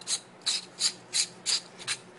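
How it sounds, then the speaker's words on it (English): An AR-15 castle nut is threaded onto a buffer tube by hand, making seven soft, rhythmic metallic rasps and rubs at close range, evenly paced and fairly quiet. "Put my castle nut back on the buffer tube real quick."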